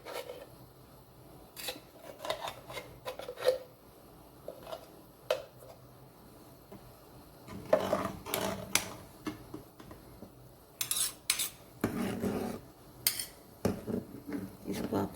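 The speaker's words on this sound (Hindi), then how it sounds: "इसको आपने चम्मच चलाते रहना है, और बिल्कुल इसको नहीं छोड़ना" Spoon scraping and stirring milk in a pan while cooking coconut burfi, a steady run of soft rasping strokes with clinks, close by and fairly quiet.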